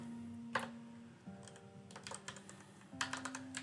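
Computer keyboard typing during game-engine coding work, quiet irregular bursts of keystrokes with pauses between, a faint steady hum underneath.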